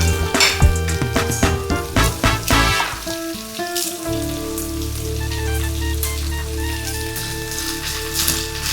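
Green chillies and curry leaves crackle and sputter in hot oil, with dense popping bursts early that ease into a steady, loud sizzle, along with a few utensil clinks.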